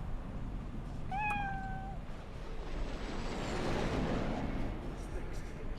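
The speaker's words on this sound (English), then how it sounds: "Is that a Siamese cat?" A Siamese cat in the video game Cyberpunk 2077 gives one clear, drawn-out meow over a steady background wash of ambient game noise.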